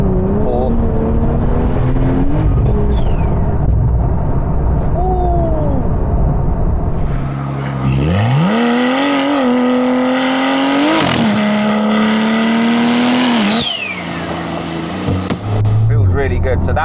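A Porsche 992 accelerating at half throttle, its engine note climbing through the gears with clear shifts and a loud rising whine, heard from inside the car with a voice over it.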